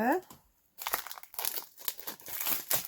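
Plastic foil wrapping is peeled off a tarot card deck close up, crinkling in irregular bursts after a short pause, with a brief voice at the start.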